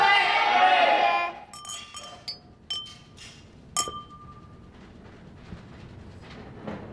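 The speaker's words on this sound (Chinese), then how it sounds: "大家，干杯！" Glasses clinking together in a toast among friends at a relaxed after-work gathering: several bright, short clinks in quick succession after a loud burst of cheering voices, followed by quieter chatter.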